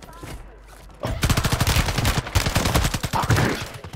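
Rapid automatic gunfire from Call of Duty Resurgence rings out in a fast, sustained burst of closely spaced shots after a quiet opening, loud and near, with a player talking over it.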